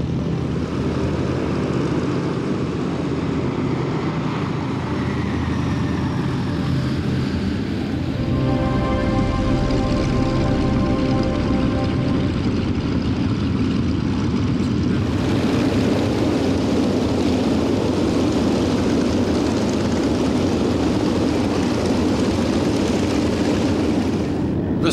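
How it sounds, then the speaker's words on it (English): A 1932 de Havilland Fox Moth propeller biplane flies past at an airshow, its engine drone loud and steady, rising in pitch with harmonic whine mid-pass, then a broad roar as it passes close. "The de Havilland Fox Moth."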